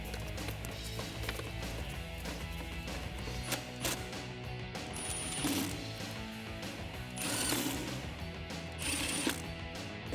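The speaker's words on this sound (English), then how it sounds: "now we are going to get our EGR back into place and tighten it down" Ratchet tightening the EGR back onto the intake of a 1987-2004 Mustang V8, dense clicking mechanical ratcheting with metallic clinks and a few sharper bursts, close up over a steady low hum, no voices.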